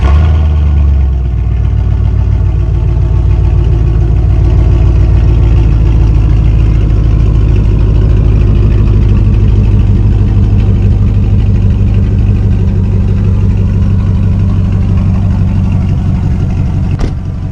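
Gasoline work truck engine cranks and catches, then settles into a steady, loud, low rumbling idle that runs on without a break.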